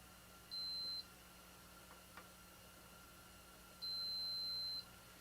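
A multimeter in continuity mode gives two steady high-pitched beeps, the first short and the second about a second long, while its probe tests components on a Macintosh II logic board in an otherwise quiet room.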